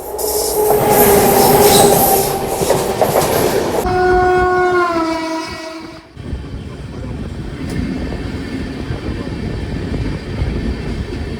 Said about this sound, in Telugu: 12734 లింగంపల్లి నుంచి తిరుపతి మధ్యలో నడుస్తుంది. ఇది నారాయణాద్రి ఎక్స్ప్రెస్.